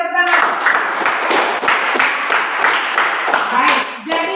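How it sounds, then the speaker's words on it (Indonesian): A classroom full of people claps steadily for a few seconds, a dense, even patter of applause. "Oke, beri tepuk tangan."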